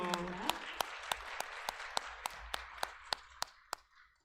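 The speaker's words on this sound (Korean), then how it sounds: "환영의 박수 부탁드립니다." Steady applause from an audience at a Korean community welfare forum with local election candidates, a crowd clapping continuously under a sharp, evenly spaced tapping, then tapering off.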